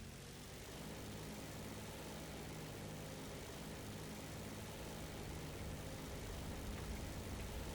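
Aircraft engines drone during takeoff in a combat flight game, a loud, continuous propeller roar that holds steady and builds slightly toward the end, with no talking.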